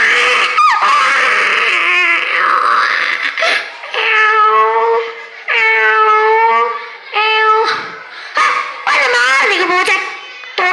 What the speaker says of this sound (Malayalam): ഭയങ്കര പൂച്ച വരുന്നേ.